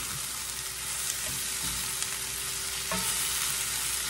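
Okra and potato hash frying in a pan, a steady close sizzle with a few soft scrapes and stirring bumps, no talking.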